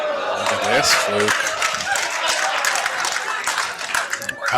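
A crowd applauds at a darts match in Las Vegas with a dense, continuous patter of clapping and cheering, loud and steady, while voices talk over it.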